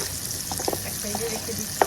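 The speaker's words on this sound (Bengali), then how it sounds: "কাঁকরোলগুলি ভালো ভাজা হয়ে গেছে হালকা" Spiny gourd (kakrol) fries in oil in a pan, a soft steady sizzle with a few light crackles and a scrape near the end.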